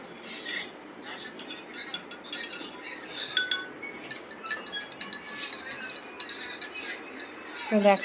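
A spoon stirs soaked kathila in a glass, producing a string of light, bright clinks and taps that grow busier toward the end, with someone talking quietly over it.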